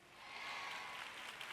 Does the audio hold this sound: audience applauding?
yes